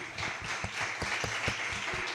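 Church congregation applauding during a sermon: a full, continuous clatter of many hands clapping together, with a few stronger beats, filling the room evenly from start to end.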